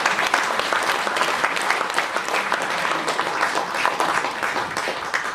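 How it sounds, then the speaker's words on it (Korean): Sustained audience applause fills an indoor book launch event for a Jongno district mayor, steady dense clapping from a large crowd continuing throughout without pause. "박수로 좀 함께 해주시죠."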